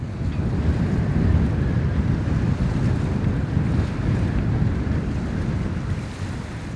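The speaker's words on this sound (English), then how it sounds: "Alright, the wind is here." Cold wind blowing hard on the Arctic coast at the northernmost point of the USA, a loud continuous low roar of gusts buffeting the microphone, with no voices.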